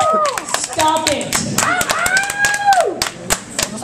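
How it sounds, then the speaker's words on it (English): At a stand-up comedy show, an audience claps in scattered, uneven bursts, sharp individual claps mixed with cheering and excited voices close by. "Don't clap for poetry."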